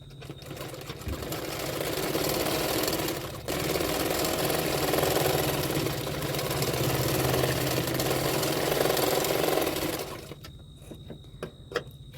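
A sewing machine runs a long steady stitch through folded extra fabric on a double katori blouse. It stays loud and constant for about ten seconds, then stops, and a few faint clicks follow.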